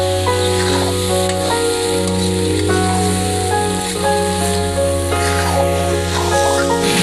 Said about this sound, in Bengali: এবার 5 মিনিটের জন্য এগুলিকে ভালোভাবে নেড়ে চেড়ে আমি কষিয়ে নেব